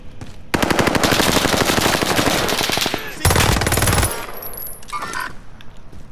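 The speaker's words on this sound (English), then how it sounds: "Got a submachine gun here." Submachine gun fire rattles in Call of Duty: Modern Warfare: two long, loud bursts of rapid automatic shots separated by a brief pause, followed by a fainter metallic clatter and distant game noise.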